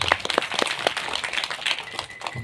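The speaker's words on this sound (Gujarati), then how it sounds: "આખા પરિવારને એકવાર જોરદાર તાળી દેવા" Applause from an audience at a Gujarati bhajan satsang gathering, a burst of hand clapping with distinct, uneven claps that is close and lively and fades slightly toward the end.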